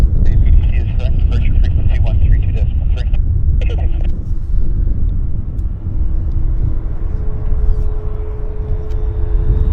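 Airbus A330 airliner taxiing at Vancouver airport, heard from a plane-spotting spot: a steady low jet rumble with a rising engine whine, under nearby chatter and some clicking handling noise early on.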